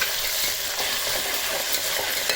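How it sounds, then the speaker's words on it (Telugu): Ginger garlic paste frying in a pan for mutton curry, a steady close hiss and sizzle with soft stirring scrapes throughout, no voices. "అల్లం వెల్లిపాయ పేస్ట్ మంచిగా వేయిస్తేనే మంచి ఫ్లేవర్ వస్తుంది"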